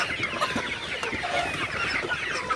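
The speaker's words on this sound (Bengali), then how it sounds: "আপনারা দেখতে পাচ্ছেন মুরগিগুলা খাবার খাইতেছে" Several Sonali hybrid chickens clucking and murmuring continuously up close while feeding, with soft pecking and scratching mixed in.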